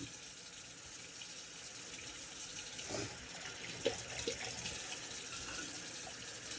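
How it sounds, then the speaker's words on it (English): Soft running water trickling into a shaving bowl in a quiet room, with a couple of small splashes and drips partway through, fairly faint and close. "I'll put a couple more drops of water in"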